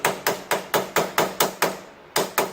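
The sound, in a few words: hammering a punch on Yamaha Grizzly 700 ATV part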